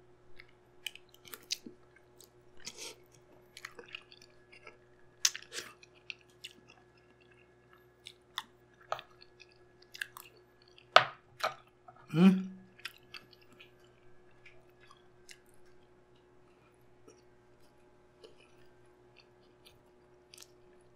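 Close, quiet chewing of bone marrow bulalo at a mukbang meal, sparse wet bites and smacks scattered through a low steady hum, with a louder crunchy burst near the middle.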